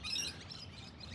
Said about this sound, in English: You hear a lot of bird noises around here, and all different types of birds.